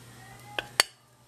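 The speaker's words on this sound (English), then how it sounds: "So I'm just going to get this little ladle-like thing and ladle myself some rice." A metal ladle scoops rice from a pot, giving two brief, sharp clinks about a fifth of a second apart against a quiet kitchen background.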